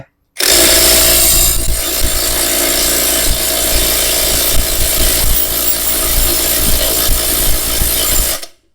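An OSUKA OSID831 mid-size impact wrench rated at 800 Nm runs on a nut for about eight seconds. It gives a loud, close, continuous rattling drone that starts and stops abruptly, with no voices.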